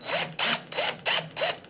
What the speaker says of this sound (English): I got the nerve up to actually put a tap into a drill